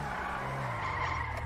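Tires squeal in a sustained skid as a 2016 Explorer patrol car in GTA 5 swings through a U-turn, with engine drone underneath and no talking.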